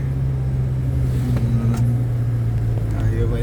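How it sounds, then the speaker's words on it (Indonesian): A car engine hums and whines steadily as the gas pedal is released on a drive in Aceh, a constant close droning tone with people talking over it. "Bunyi mobil, teriak-teriak mobilnya. Kalau lepas pedal gasnya ini."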